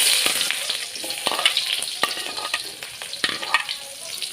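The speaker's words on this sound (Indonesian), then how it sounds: "Tuangkan minyak. Kita masukkan bawang merah dan bawang putih." Shallots and garlic sizzling in hot oil in a wok, a steady crackling hiss close up with scattered pops and the scrape of stirring through it, no voices.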